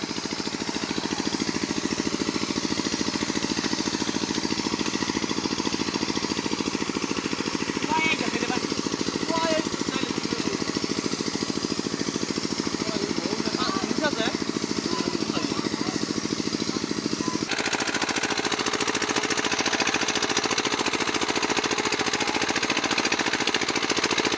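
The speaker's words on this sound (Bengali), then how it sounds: "এখানে কিন্তু দেখেন স্যালো মেশিন লাগিয়ে দিছে" A shallow-well water pump engine runs steadily in a village field, a loud continuous rattling drone that fills the whole stretch with a slight change in tone partway through.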